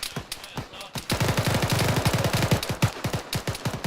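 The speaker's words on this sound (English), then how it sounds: "Taking shots, Margie." Rapid automatic gunfire in Arma 3 gameplay cracks out in dense bursts, with short single shots before and after. The fire is loud and close and fills most of the clip.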